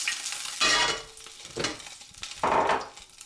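A dollop of fat sizzles in a hot pan as it is swirled around, giving three bursts of bright frying hiss with quieter gaps between, close and alone.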